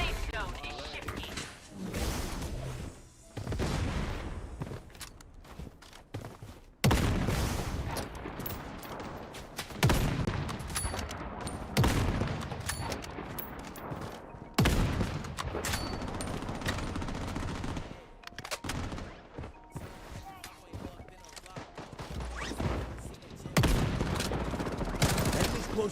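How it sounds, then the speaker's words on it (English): Heavy gunfire in the PC shooter Bloodstrike: dense, continuous bursts of rifle and automatic fire. Crashes and thuds come loud and near, with only short lulls, under game voice callouts. "Under heavy fire."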